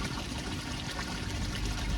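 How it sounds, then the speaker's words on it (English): A garden koi pond waterfall running steadily, water splashing and trickling in a continuous, fairly loud wash close by with no other sounds. "switching it over now so that the waterfall's running again"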